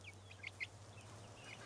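Australorp rooster and Rhode Island hens clucking faintly in a pen, a few short soft clucks over a low steady hum.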